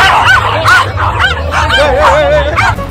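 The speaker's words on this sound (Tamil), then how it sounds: "நாய்க்கெல்லாம் என்னடா ஆச்சு கத்திட்டு இருக்கே" Several dogs barking and yelping together, close and loud, with high whining cries and overlapping barks in an uneven rhythm throughout.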